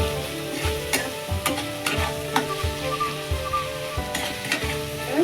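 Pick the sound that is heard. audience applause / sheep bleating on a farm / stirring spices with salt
stirring spices with salt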